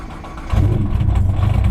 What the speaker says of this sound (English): He's going to show me how to start his car